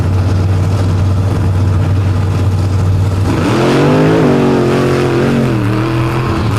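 Raminator, a Ram Trucks monster truck from Champaign, Illinois, at a monster truck jamboree event, engine roaring loud and steady, then rising into a sustained rev with wavering pitch, heard up close and alone.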